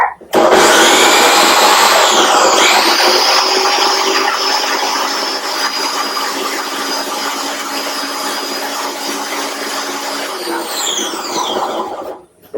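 Food processor grinding a sunflower seed mixture, a loud continuous whirring roar that starts abruptly, shifts in pitch as the seeds break down, then cuts off at the end.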